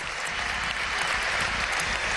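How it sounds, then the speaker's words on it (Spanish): Applause from an audience at a school event honoring top high school students, cheering children who just sang; steady, dense clapping fills the whole stretch without pause. "un aplauso fuerte para ustedes"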